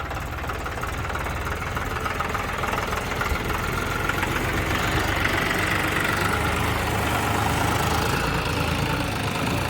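A tractor engine idles steadily and loudly nearby on a farm during poplar planting, a continuous low knocking rumble with no pauses.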